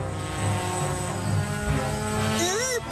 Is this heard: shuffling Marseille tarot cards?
no